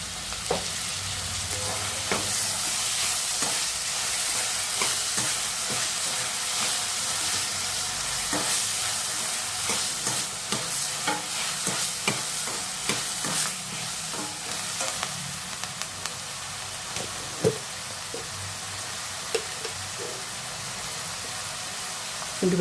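Tomatoes and onions frying in a pan for karela palya, a steady close sizzle with repeated scraping strokes of a spoon stirring throughout, no voices.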